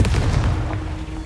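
Confringo blasting spell from Hogwarts Legacy, a fiery magical blast in combat: a short, loud burst with a booming, artillery-like thump at the start that quickly decays into a low rumble.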